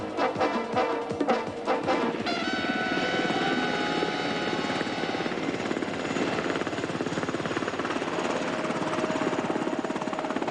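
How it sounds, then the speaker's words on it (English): Black Hawk helicopters fly with a loud, continuous rotor thump and turbine whine that holds steady and close throughout. "After unloading, they fly to the nearby loggering area and await the mission commander's"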